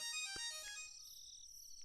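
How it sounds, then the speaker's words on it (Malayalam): A phone ringtone sounds in an office as a bright, melodic electronic tone that rings loudly at first, then fades and thins out after about a second, with no one talking. "ഫോൺ ആരാ?"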